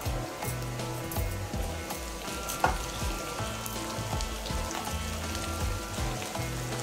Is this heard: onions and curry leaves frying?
yes